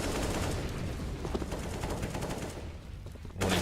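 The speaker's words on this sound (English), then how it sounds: "Warning shots from Robs, but he doesn't manage to get any kill" Warning shots fired in CS:GO on the Mirage map during a FaZe Clan vs Mousesports esports match: rapid, loud bursts of automatic gunfire that thin out briefly before a sharp final burst.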